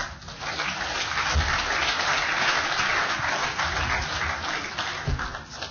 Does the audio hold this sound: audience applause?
yes